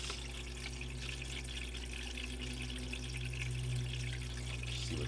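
Dirty, muddy water is poured out of a gold pan during panning of red clay and chunky quartz, a steady close trickle and gurgle that flows continuously with a faint low hum beneath.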